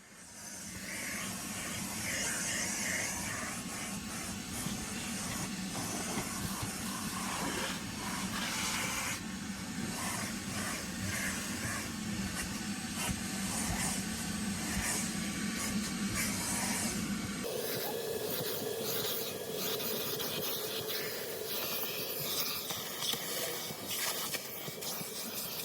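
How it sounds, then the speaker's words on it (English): A vacuum cleaner fitted with a crevice tool works over a car's floorboard, a steady loud whooshing hiss of suction running continuously, its tone shifting partway through as the nozzle moves. "Vacuuming the floorboard is going to be very similar to vacuuming the floor mats"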